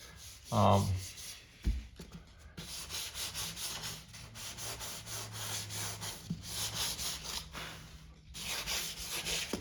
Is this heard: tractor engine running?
no